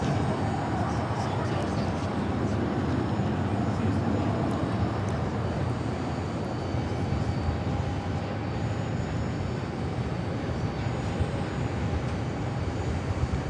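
An Airbus A321 airliner arriving from JFK, a continuous heavy rumble of jet noise that holds steady throughout, with people talking over it.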